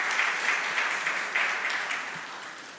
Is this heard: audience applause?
yes